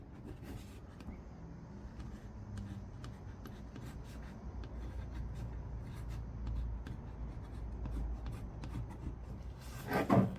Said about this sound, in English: I'm just going to write on that here